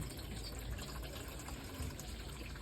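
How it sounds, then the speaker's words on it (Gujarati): Water runs steadily into a container, a constant rushing gush with no break, fairly close and without any talking. "જો પાણી ભરાતું છે"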